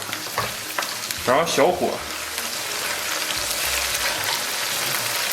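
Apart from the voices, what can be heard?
stir-frying scallions with doubanjiang and chili sauce in wok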